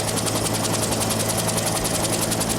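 A helicopter's turbine engine drives the spinning rotor blades, producing a loud, close, continuous roar with a fast, even chopping pulse and no voices.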